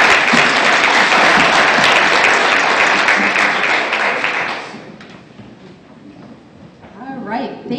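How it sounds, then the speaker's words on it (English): An audience at the Fairest of the Fair 2015 gala applauds for Courtney as she is called to the stage: loud, dense clapping for nearly five seconds, then fading out as a voice begins talking near the end. "Round of applause for Courtney."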